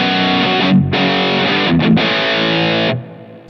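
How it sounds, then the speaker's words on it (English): Electric guitar through a DOD Gunslinger MOSFET distortion pedal into an amp modeler's clean channel: heavily distorted chords ring out loud and sustained, with two short breaks in the playing before the sound fades at the end. "this is a capture I have in my Patreon of a DoD Gunslinger MOSFET distortion going into the clean channel"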